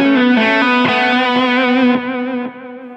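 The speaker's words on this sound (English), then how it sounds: "Transistor tape now feeding into the reverb." A distorted electric guitar runs through a Line 6 Helix transistor tape delay that feeds into reverb. Sustained notes repeat as echoes, then fade into a reverberant tail that drops off in steps near the end.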